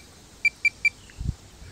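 A Minelab Pro-Find 40 pinpointer powering off gives three short, evenly spaced high electronic beeps in quick succession, close and clear, followed by a soft handling bump.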